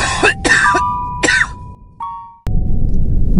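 Several harsh, close coughs in quick succession from an old man, followed by a brief pause and a short sound, then background noise.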